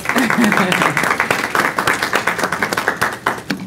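An audience at a community program event claps in a quick, rhythmic run of sharp hand claps, fairly close and loud, with a voice speaking briefly at the start.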